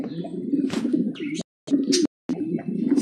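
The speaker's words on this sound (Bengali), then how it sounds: "আমার সবগুলো কবুতরকে আমি নিচে নামাই দিছি গোসল করার জন্য" Mundian pigeons coo in a steady, close chorus of low throaty calls, broken by two brief silent gaps, with no talking over them.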